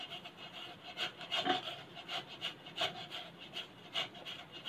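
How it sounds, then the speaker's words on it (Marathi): Boiled potatoes rubbed across a small hand grater, a quiet, rhythmic rasping with repeated scraping strokes roughly every half second, close up and with no talking. "म्हणून त्यांना मी किसून घेणार आहे।"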